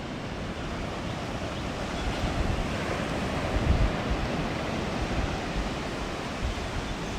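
Calm sea waves washing onto a beach at sunrise, a steady broadband wash of gentle surf with light wind, continuous and fairly soft, swelling slightly in the middle.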